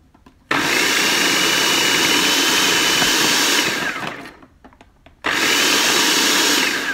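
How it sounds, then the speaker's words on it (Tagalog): A food processor blade whirs loudly through whole radishes for about three and a half seconds, winds down, then starts again after a short gap, a steady dense motor roar with chopping texture. "Lagay na po natin sa food processor."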